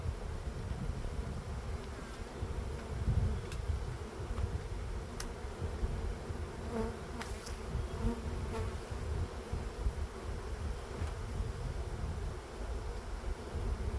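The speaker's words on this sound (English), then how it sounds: "I've got bees sticking to them and buzzing at speed, indicating they want to sting me" Honey bees buzz steadily and close during removal from a thin breeding box, a dense continuous drone with no talking.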